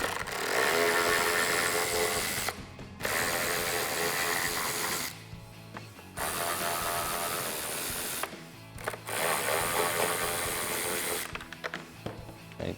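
Four 7mm bolts coming out of the reverse light on a 2018-2020 Ford Mustang rear diffuser, removed with a power tool that whirs loudly and steadily in several long runs with short gaps between them.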